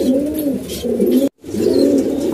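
Pigeons cooing close by, a continuous low throaty burble that pauses briefly and then resumes, loud and alone.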